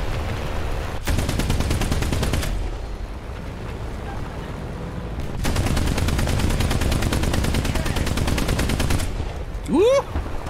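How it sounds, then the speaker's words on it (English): Gunfire aimed at the player in a Soviet-side war video game, long bursts of rapid machine-gun fire in two sustained stretches, loud and close, ending with a brief whistling tone. "Someone just try to shoot at me."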